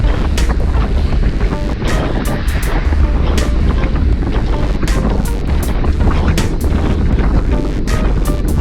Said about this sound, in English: We're going into a bit of a wind.